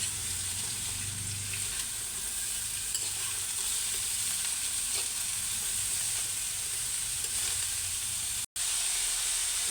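Vegetables with jicama sizzle steadily in a hot pan for lumpiang gulay, a constant close hiss of frying with light stirring throughout and one brief dropout near the end.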